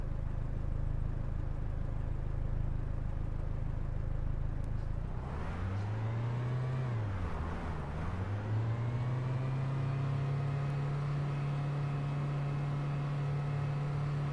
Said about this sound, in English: I feel like the cars in this game cap out the sound too quickly.